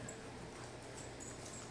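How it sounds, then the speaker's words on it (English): Dogs wrestle and play roughly indoors, giving soft whimpers and yips over a steady, noisy background. The dogs are close. "This is dog playing."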